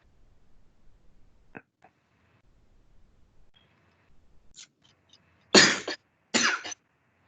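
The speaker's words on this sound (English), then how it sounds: "No coughing in class" Two loud coughs close by in a classroom near the end, after a quiet stretch with a few faint clicks and small sounds.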